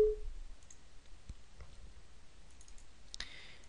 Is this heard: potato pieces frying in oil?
no